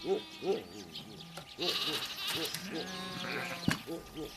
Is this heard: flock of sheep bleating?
yes